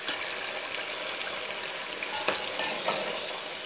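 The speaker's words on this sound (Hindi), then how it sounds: "अब हम इसमें डालते हैं आलू।" Potatoes going into a pan of pressed, thinned spinach with a little water, giving a steady moderate sizzle with stirring scrapes and a couple of louder clatters, no talking.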